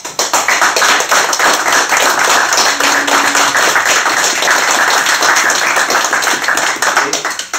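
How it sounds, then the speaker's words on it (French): Sustained, steady applause at a French municipal council meeting, many hands clapping close and loud throughout, with faint voices mixed in. "Et ces applaudissements soient entendus"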